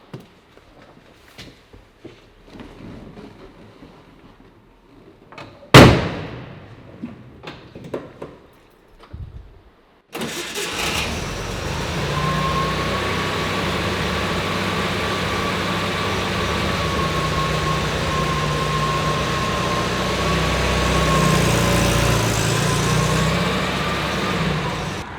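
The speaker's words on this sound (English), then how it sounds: "taking this lovely 1958 Karmann Cabriolet for a ride" A 1958 Volkswagen Karmann Ghia Cabriolet gives a sharp door slam and some quiet handling noises, then its engine starts and idles close by in a steady, even rumble.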